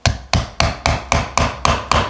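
A mallet drives a curved stitching chisel through leather in eight sharp, evenly spaced strikes about a third of a second apart, close and loud with a short woody ring after each, no voices.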